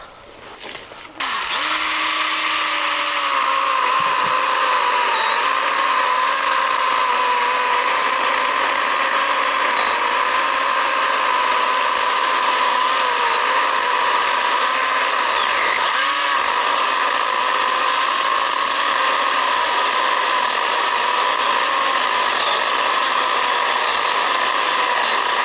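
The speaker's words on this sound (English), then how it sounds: "Little baby chainsaw getting the work done." STIHL ASA 20 battery pruning shears cut through thick branches outdoors, a loud continuous motorized whir and grinding that runs steadily for over twenty seconds after a brief quiet start.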